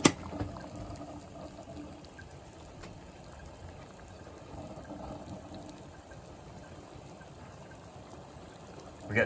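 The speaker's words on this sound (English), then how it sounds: "I'm gonna drop the Maglite into boiling water for 30 seconds." A Maglite flashlight sits submerged in boiling water, giving a steady, moderately quiet bubbling and seething wash with a soft splash at the start and a louder disturbance at the very end.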